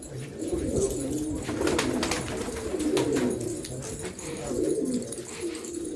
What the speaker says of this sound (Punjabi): ਦੇਖੋ ਕਬੂਤਰ